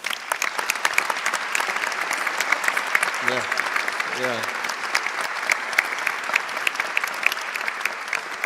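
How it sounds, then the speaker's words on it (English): Sustained audience applause at an academic conference session on European university alliances, steady and dense throughout, with a couple of brief voiced interjections rising out of the clapping. "But let's give to all of them a round of applause."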